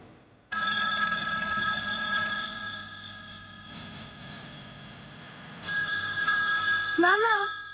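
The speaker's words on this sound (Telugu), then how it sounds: "ఫోన్ రింగ్ అవుతుంది నాన్న" A telephone rings in repeated electronic bursts, loud and close, pausing briefly mid-way before ringing again, with a short chirpy warble near the end.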